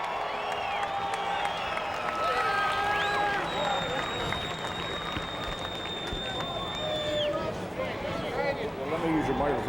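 Crowd at a sprint car event at the Knoxville Nationals cheering and whooping for driver Danny Lasoski, with continuous loud applause and scattered yells under an announcer's voice.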